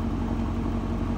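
A car engine running in sport mode, a steady low droning hum with a constant tone, moderately loud and unbroken, no voices over it.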